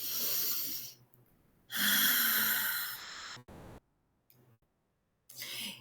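Several sharp exhaled breaths during a guided breathing exercise, each a loud airy rush lasting a second or so, separated by quiet pauses with a brief click near the middle.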